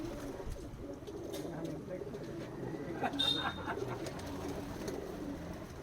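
Soft pigeon coos murmur in the background beneath someone talking, with a brief higher chirp partway through.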